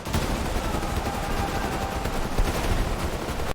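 Indian soldiers fire in a dramatized Kargil war battle scene, a loud, continuous stream of rapid gunshots and machine-gun bursts that holds steady before cutting off abruptly.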